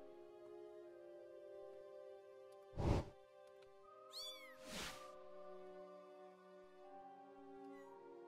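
A cat meows twice in a video game, one cry near the three-second mark and a longer, higher, rising-and-falling meow around four to five seconds, set against a steady musical drone.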